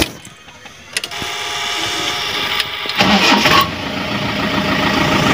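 A Mahindra Scorpio's engine cranks and starts, with a brief starter whir and then a catch into a steady idling rumble that stays continuous and fairly loud to the end.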